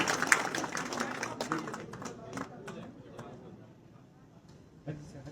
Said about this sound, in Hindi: तालियां एक बार बजनी चाहिए लगातार इस क्षण के लिए